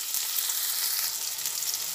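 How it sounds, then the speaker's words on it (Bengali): Tomato, onion, ginger and garlic fry in a pan with a steady, close hiss and sizzle that runs unbroken for the whole stretch, with no voices over it. "ভালোভাবে ভেজে নিচ্ছি"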